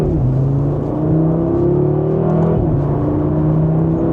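A 2026 Audi RS3 engine revs while driving, a loud close drone whose pitch climbs steadily, dips briefly after a shift, then rises again, with no talking.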